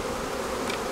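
Honeybees droning around an opened hive box, a steady close-up hum filling the short moment without any talk.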